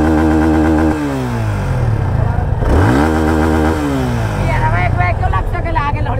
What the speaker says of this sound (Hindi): अब पूरा उसको दे दीजिएगा, रेव पूरा दे दीजिए।